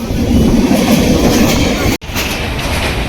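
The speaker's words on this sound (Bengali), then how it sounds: "প্রথমবার চলছি এই ট্রেনে" A passenger train rolls along rails out of Kolkata past Dum Dum Junction, a steady close rumble with rhythmic clatter, broken by a brief dropout near the two-second mark before the running noise resumes.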